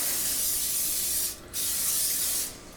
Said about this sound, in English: Let's start by spraying our casserole dish with cooking oil.